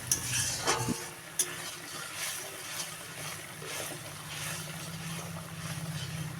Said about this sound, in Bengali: মিশিয়ে মশলাটা ভালো করে ভেজে নেব।